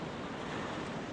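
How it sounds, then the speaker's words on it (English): Steady wind roars at a shore during a smooth cross-shore windsurfing day, a continuous broadband rush with no talk. "the wind is cross shore"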